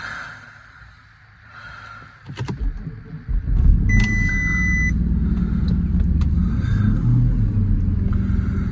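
A car engine cranks with a brief whirring starter, catches after a couple of seconds and settles into a loud, steady rumbling idle close by, with a few faint clicks and tones above it.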